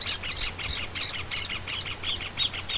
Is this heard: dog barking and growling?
no